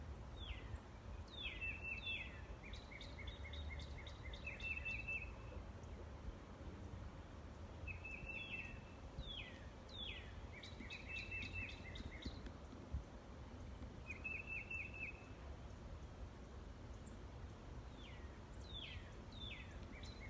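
Several small birds call from a tree in a garden in late winter, bursts of bright chirps and trilled phrases repeating every few seconds over a steady low background hum, fairly near and clear.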